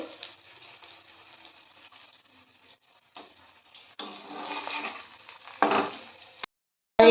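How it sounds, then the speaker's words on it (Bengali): Cabbage balls fry gently in a pan as a soft, steady hiss rises and falls. Louder sizzling bursts come when the balls are turned, and the sound cuts off abruptly near the end. "আর নাড়লেই তো এইভাবে বলগুলো মানে হালকা হালকা করে ভেজে নিতে হবে।"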